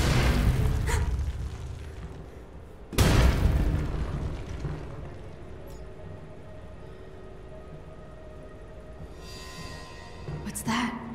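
Explosions and a collapsing structure in the Marvel's Avengers video game: two heavy booming blasts with rumbling debris between them, loud and near, with a voice talking over the action.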